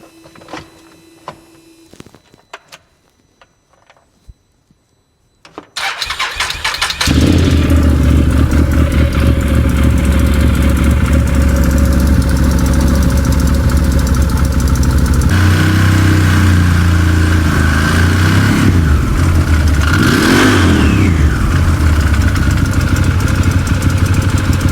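A UTV engine being started after clutch and belt work: a few quiet clicks and clunks, then the engine catches and settles into a loud, steady idle, with the pitch rising and falling as it revs partway through.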